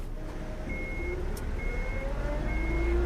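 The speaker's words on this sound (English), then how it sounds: "they started the engine" A truck engine idling and rumbling low in the video game UnMetal, steady and close, with faint electronic tones above it and no talk.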